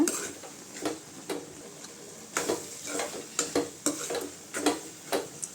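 Spoon stirring banana stem kootu in a pot, a series of repeated scraping clinks in an irregular rhythm over a faint background hiss, fairly quiet and close.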